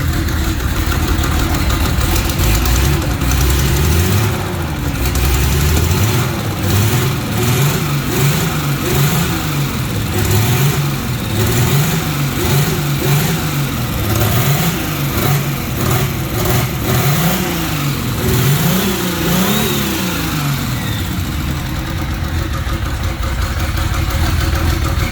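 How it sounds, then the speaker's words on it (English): Turbocharged BMW M20 stroker inline-six running with broken rocker arms, loud and close, revving up and down repeatedly over a steady idle with a persistent mechanical ticking throughout. "Running. It's really ticky, but it's running."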